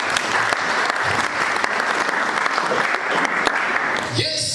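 A church congregation claps loudly and steadily in a dense, sustained wave of applause that tapers off near the end.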